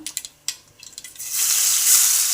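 Ground paste tipped into hot oil with popped mustard seeds while making crab rasam, starting with a few light clinks and pops, then a sudden, loud, steady sizzle that holds strong to the end, with no talking.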